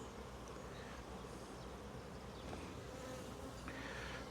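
Honey bees buzz densely around an open hive in April, a constant, fairly loud swarm drone with no one speaking.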